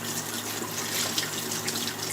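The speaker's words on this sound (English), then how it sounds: "Washing dishes." Running faucet water splashing into a sink full of dishes being washed, a steady close hiss with small spattering fluctuations and a faint drip-like accent near the middle, no voices.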